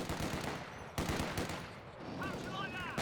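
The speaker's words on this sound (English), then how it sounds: "Good MG42 action in the bottom for CPU Easy" In Company of Heroes 2, an MG42 machine gun fires rapid, rattling bursts at moderate distance. A narrator talks over the shooting.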